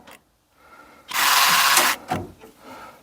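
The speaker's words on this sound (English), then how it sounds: "if I pull it up and down, you can hear it activating the other locks" A VW T4 central locking actuator fitted to a T25/T3 van door buzzes for about a second, followed by a shorter second whir and a few mechanical clicks, close up with no talking.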